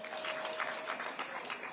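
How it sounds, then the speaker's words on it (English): Steady, dense clapping from a school audience applauding a learner during First Lady Rachel Ruto's visit in Nairobi, fairly loud and sustained throughout with no voices on top. "Let's clap for her."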